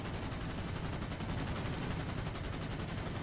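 Aircraft guns fire continuously at a warehouse during a diving attack in a flight combat video game, a dense, unbroken rapid rattle held at steady loudness throughout.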